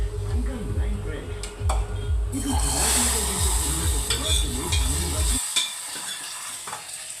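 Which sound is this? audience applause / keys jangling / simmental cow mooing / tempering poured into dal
tempering poured into dal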